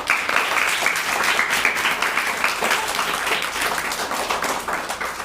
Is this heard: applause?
yes